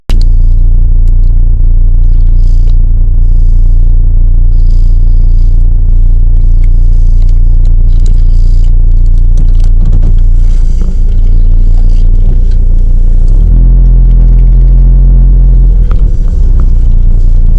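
A Volvo car pulls away from a gas station with a loud, steady low engine rumble, a rise in revving partway through and some light rattling and scraping from the cabin.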